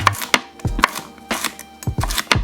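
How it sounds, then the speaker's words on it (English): A knife slices through okra on a chopping board in a kitchen, making a run of crisp, close taps and short cuts in an uneven rhythm, with no talking. "Then we want to slice up our okra."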